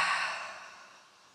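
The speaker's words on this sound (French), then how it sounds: "Expire, relâche par la bouche." One long, soft exhale released through the mouth during a yoga session, airy and close, starting strongest and tapering away smoothly into quiet.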